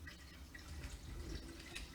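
Water running from a tap into a cooking pot, a steady close rushing and trickling stream that continues without a break.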